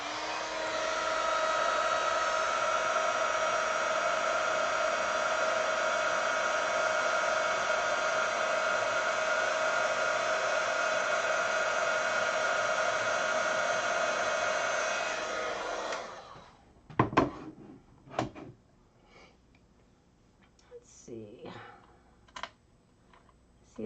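A handheld heat drying tool blows on distress glaze on a handmade card, a loud, steady whirring blast for about sixteen seconds. It then cuts off, leaving a few scattered clicks and taps nearby.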